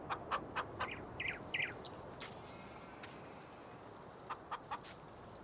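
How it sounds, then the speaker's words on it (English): Chickens clucking in the farming video game Farming Simulator 19, a few short clucks and chirps in a quick run early on, then scattered calls later over a steady farmyard ambience. "It's the chickens."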